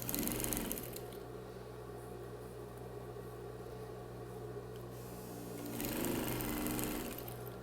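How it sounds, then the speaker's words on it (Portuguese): A sewing machine stitches fabric for a bathroom set in a steady, fast mechanical whir with a humming motor, slowing briefly in the middle before speeding up again, close and continuous with no speech. "eu venho costurando dessa maneira até o final"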